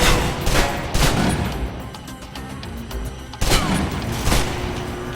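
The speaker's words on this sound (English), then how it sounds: "If you're trapped in close quarters with multiple opponents, the SMGs can help clear the room quickly." Submachine gun fire in the Alpha Protocol video game, rapid loud bursts in close quarters with sharp repeated cracks and booms, two heavier volleys standing out over a dense, continuous clatter.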